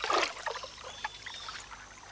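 Giant otters enter a river and swim upstream, stirring up a close burst of splashing at the start that gives way to a steady soft trickle and flow of water.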